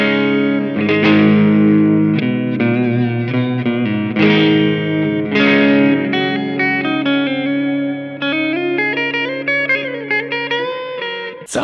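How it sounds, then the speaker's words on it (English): Electric guitar played through a FLAMMA effects pedal in cave reverb mode: sustained distorted chords and single notes ringing out with long, spacious reverb tails, loud and alone, ending in a brief sharp click. "Let's go to mode 4, which is cave reverb."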